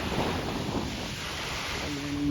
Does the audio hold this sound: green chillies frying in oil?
no